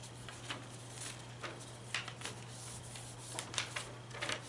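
A sheet of paper is handled and laid out on a surface, making soft, brief rustles and crisp flicks scattered irregularly over a quiet background hum.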